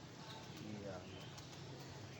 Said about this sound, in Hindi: ये आ गया कबूतर